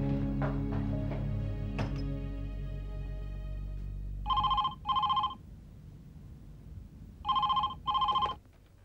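A telephone rings in two paired bursts of bright electronic trills, separated by a pause, following a fading low rumble and a few clicks; no one speaks.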